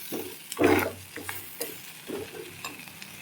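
Masala for palak paneer fries in a pan, giving a soft sizzle broken by intermittent stirring and scraping scuffs, one louder stir near the start, close and fairly quiet.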